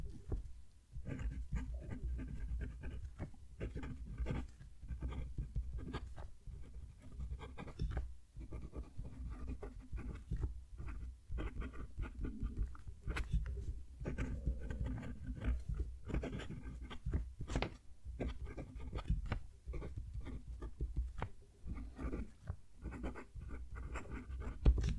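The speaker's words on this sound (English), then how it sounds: "That is very scratchy and it feels like it's catching the paper, especially when I'm doing a line going upwards" A Pilot Metropolitan fountain pen nib scratches across paper during continuous writing, giving a close, dry, rasping texture of quick strokes and short lifts over about twenty-five seconds, with no speech.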